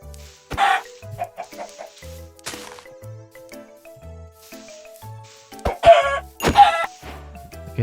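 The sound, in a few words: chickens clucking in Minecraft video game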